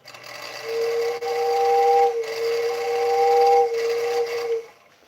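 A toy train station's whistle sounds loud and close as a steady two-tone electronic tone, broken by brief dropouts into three bursts, with no talking.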